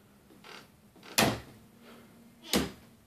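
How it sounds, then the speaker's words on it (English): A small door on a handmade tabletop miniature is shut, heard as two sharp clacks with softer bumps before each, close and quiet, with no talk. "close the door."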